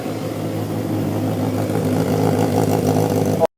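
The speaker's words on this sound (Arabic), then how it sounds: "وفعلا المحرك بيشتغل، والحقيقة إن صوت المحرك جميل جدا" A go-kart engine runs on a bench without its cooling system fitted, a loud, steady mid-pitched drone that rises slightly in intensity before cutting off abruptly at the end.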